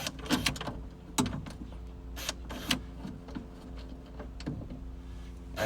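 A car trunk latch mechanism being fitted and bolted in clicks and clacks in sharp, irregular bursts over a low steady hum. Several distinct mechanical snaps stand out close up, with no speech.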